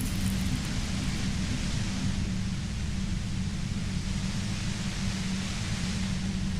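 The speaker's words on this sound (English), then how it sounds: "The violent white noise becomes even more overwhelming closer to the compressor." Loud, steady roaring white noise from the compressor in the video game Disco Elysium, a dense, unbroken hiss with a rumbling low end that fills the whole stretch with no talk.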